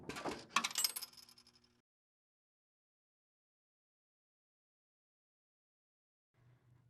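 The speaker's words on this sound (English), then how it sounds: "check that all coins drop into the coin return cup properly" Coins rattle and drop through an MEI CASHFLOW 7000 coin mechanism in a vending machine, a quick burst of close metallic clinks and jingling that dies away within two seconds, followed by silence and a faint low hum at the end.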